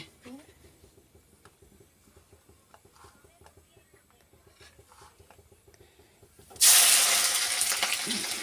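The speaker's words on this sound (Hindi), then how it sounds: "सबसे पहले हम डालेंगे आदि और लहसुन डालेंगे" Ginger and garlic hit hot oil for homemade chowmein with a sudden loud, bright sizzle that keeps hissing steadily, after quiet kitchen clatter.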